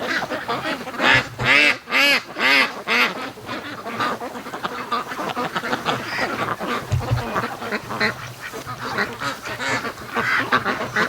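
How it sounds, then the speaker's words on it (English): A group of free-range ducks quacks continuously and loudly at close range, with overlapping calls forming a steady chattering din that occasionally rises into bursts of harsher quacking. "Come on, ducks."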